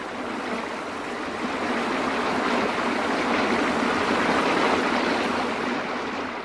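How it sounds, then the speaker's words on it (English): Stream water pouring smoothly over a waterfall, a dense, continuous roar that stays steady and loud throughout, with a slight swell midway and no voices. "The water pours smoothly over the fall."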